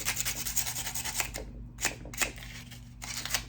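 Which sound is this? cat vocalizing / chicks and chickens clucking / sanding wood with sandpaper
sanding wood with sandpaper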